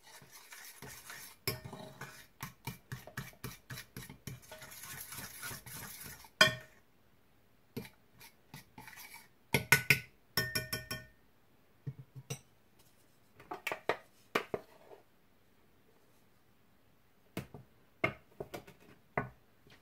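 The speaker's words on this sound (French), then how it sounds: "je vais pouvoir les ajouter à la première préparation" Whipped egg whites being folded into pancake batter in a bowl. A utensil knocks and clinks against the bowl in quick bursts and scattered single taps, with quiet pauses between them and no voices.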